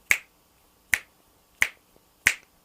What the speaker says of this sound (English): That's the snap of my finger.